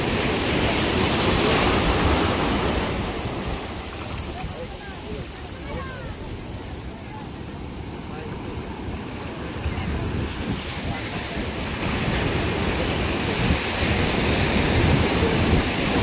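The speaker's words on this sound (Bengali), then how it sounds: "এই যে ঢেউটা আসতেছে" Sea waves rolling onto a shore where fish are being caught, a continuous loud surging roar that swells, eases in the middle and builds again, with wind buffeting the microphone.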